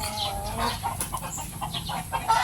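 Sweater gamefowl roosters and hens cluck close by in a short, steady stream of overlapping calls, with no talking.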